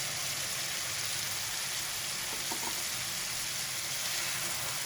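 Green peas tipped into frying masala in a pan, a steady broadband sizzle and crackle that holds evenly throughout, close and fairly quiet, no voices.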